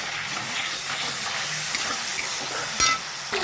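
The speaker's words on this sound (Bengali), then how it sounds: "গোটা জিরে আর তেজপাতা ফোড়ন একসঙ্গে দিয়ে দিলাম।" Whole cumin seeds and bay leaves sizzle in hot oil in a pan, a continuous bright hiss and crackle, with a brief clatter near the end.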